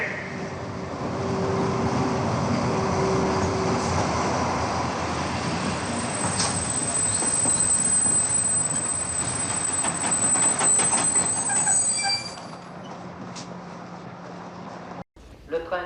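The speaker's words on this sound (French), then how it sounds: "Numéro 125, en provenance de Caen, Lille, Roubaix, Tourcoing, entre en gare." A train numbered 125 from Caen, Lille, Roubaix and Tourcoing rolls into a station with a steady loud rumble, metallic clatter and squealing wheels, while a platform announcement plays over it before the noise drops away.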